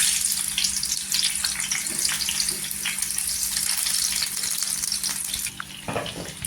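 Halved tomatoes frying in oil in a large wok, making a loud, continuous close hiss and sizzle that eases slightly near the end. A faint splash or clatter is heard toward the finish.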